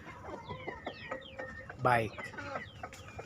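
Free-range village chickens on a small home farm cluck softly nearby in scattered, irregular calls, with a louder squawk midway, under someone speaking.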